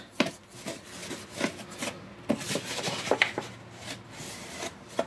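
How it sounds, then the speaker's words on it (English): A dough scraper rubbing and scraping sticky bun dough off a floured table, a series of short close rasping strokes in irregular rhythm with soft knocks between. "Get one of these to scrape the dough off the table"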